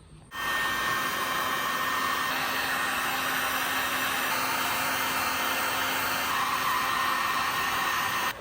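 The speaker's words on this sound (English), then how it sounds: "blow this out with air and make sure it's dust free before you stick it back on the housing" Compressed air blows steadily onto a headlight lens of a 2006-10 Dodge Charger to clear dust, a loud continuous hiss that starts abruptly after a brief quiet moment and runs unbroken to the end.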